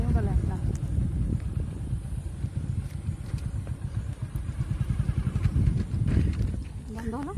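A motorcycle engine runs with a low, continuous rumble as gears are shifted, while people talk over it throughout.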